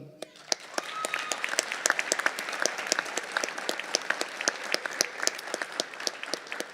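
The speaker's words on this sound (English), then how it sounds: "Please give a round of applause for the recipients." An audience at a county public safety graduation claps steadily for award recipients, with sharp individual claps standing out through the sustained applause.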